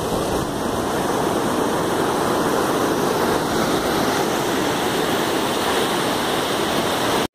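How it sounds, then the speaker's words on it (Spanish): Water from the Veloz river thunders over the natural spillway of the Peña del Águila dam, a loud, steady, unbroken roar of rushing falls heard up close with no voices. "El gran desagüe natural que tiene es todo el excedente de agua que pesca por el río Veloz."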